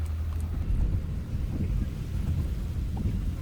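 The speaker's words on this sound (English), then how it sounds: "We're up here to sit and look at the rainfall." Steady rain patters and hisses close by at a lakeside park campground, with a low rumble like distant thunder rolling underneath; no one speaks.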